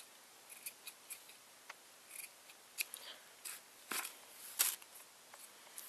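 Quiet, irregular snips of scissors trimming a small yarn pom pom, a dozen or so short clips spaced unevenly with near silence between.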